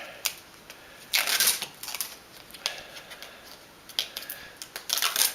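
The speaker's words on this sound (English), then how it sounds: "I'm going to peel my finger lift tape here" Finger lift tape is peeled off a craft card from a Hunkydory card making kit, giving bursts of crisp, papery crackling and tearing in short irregular strips, close and fairly quiet, with no talk.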